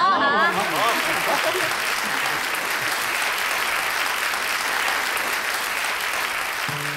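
A studio audience claps loudly and steadily for a newly engaged couple at an engagement ceremony, a dense, continuous wash of applause that holds for several seconds, with a brief voice at the very start.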